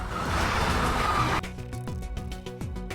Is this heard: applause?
no